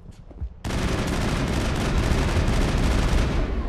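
Sustained heavy gunfire in the Mass Effect video game erupts after a brief quieter moment, a loud, dense barrage of rapid shots and blasts that continues without pause.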